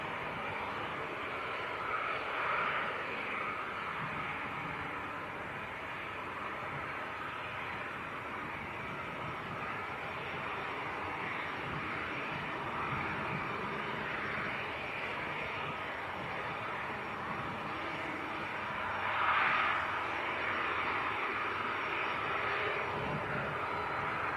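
A Jet2 Boeing 737-300 departs Leeds Bradford Airport, a steady broad engine roar that holds loud and even for over twenty seconds, with no talking.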